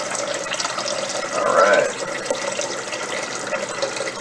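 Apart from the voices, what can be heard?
tap water running into a pot for pasta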